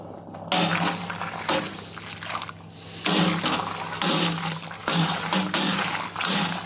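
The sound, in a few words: stirring Citra and Mosaic hops into hot wort, Grainfather G70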